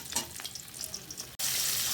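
Katla fish sizzling in hot oil in a pan, a steady bright crackle with faint stirring, briefly cut then resuming louder and denser, with no talk.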